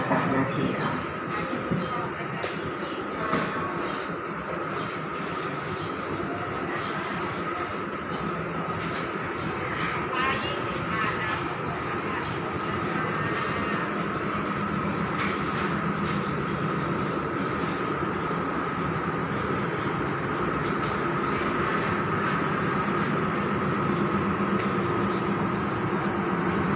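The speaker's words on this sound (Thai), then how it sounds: "ค่ะขบวนรถเที่ยวนี้จะออกจากสถานีเวลา 12:03 น." Express train number 112 stands at a Thai railway station amid a steady, dense rumble and hiss of idling machinery and platform ambience, with voices over the station public address system throughout.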